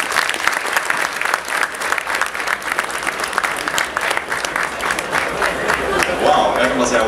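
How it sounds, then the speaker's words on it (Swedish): A crowd at the Elmia 2013 unveiling of Lukas Kooz's new car build breaks into loud, sustained applause mixed with cheering, the clapping dense and close throughout, with voices rising in the crowd. "Stor applåd åt folk för Lukas Kos nya bygge."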